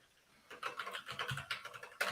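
Quick bursts of typing on a computer keyboard, a brief quiet moment and then a rapid flurry of key clicks, close and fairly soft.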